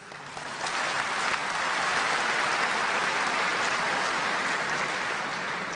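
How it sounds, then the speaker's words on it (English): A crowd applauds steadily and loudly, a dense, even wash of clapping that swells quickly and holds for several seconds. "I request all the audience to give him a big clap."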